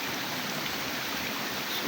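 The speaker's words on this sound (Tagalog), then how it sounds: "malakas yung tubig niya." A strong seasonal stream swollen by August rains rushes steadily, its dense broadband water noise continuous and close throughout with no voices.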